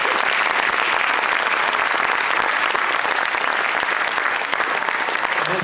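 A concert audience at a choral event in Jakarta bursts into dense, sustained applause, loud and close, with many hands clapping steadily throughout and no voices standing out.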